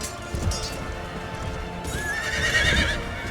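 Horses neigh amid a battle in the strategy game Empire: Total War, a sharp rising whinny over the thud of hooves and muffled clatter of fighting, loud and close.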